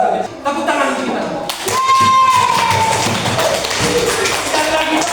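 Class group applause after a lesson, a burst of clapping hands and taps that starts suddenly and continues steadily over a teacher's speech.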